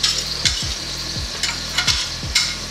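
Bacon sizzles in a frying pan with a steady crackle, broken by about six scraping strokes of a utensil stirring it around, close and alone without talk.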